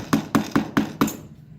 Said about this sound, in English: I can hammer both ends.